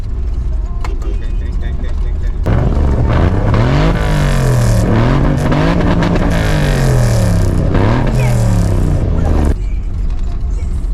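Riding inside a car on a road in the DR Congo, a nearby vehicle's engine roars up and rises and falls in pitch as it overtakes, loud over constant road rumble, with people talking.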